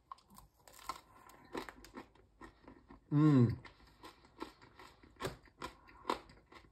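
A bite into a crusty seeded half-wholegrain sourdough sandwich loaf gives one loud close crunch, followed by quieter crackly chewing and a soft hum of approval.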